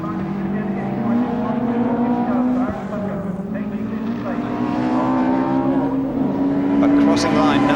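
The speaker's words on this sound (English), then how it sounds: "Chris Lord in the Ford Sapphire Cosworth and the Ford Capri of Aaron Tucker" Ford Sapphire Cosworth and Ford Capri race cars roaring around Snetterton circuit in 1992, a steady loud engine drone with shifting pitch throughout, overlaid by race commentary.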